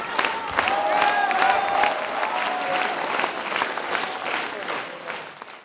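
Loud, long applause from a theatre audience at a music and drama theatre after a performance of Esmeralda, dense steady clapping with some cheering and voices mixed in.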